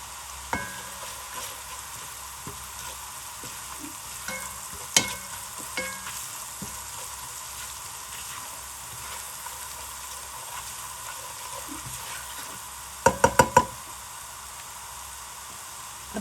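Garlic sautéing with salt, white pepper and chili flakes for chicken vegetable chow mein: a steady low sizzle and frying crackle with occasional stirring scrapes, and a quick burst of sharp clanks near the end.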